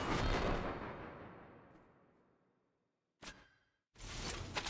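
Gunfire in a competitive video game match: a loud blast fading slowly over about three seconds, then a short sharp shot and a renewed burst of firing at the end.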